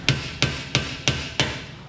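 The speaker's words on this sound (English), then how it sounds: "I used the chisel end of this body hammer" The chisel end of a body hammer strikes a metal dust cover on a 1937 Chrysler Imperial five times at a steady pace, each blow a sharp close metallic tap while working in a conical bead.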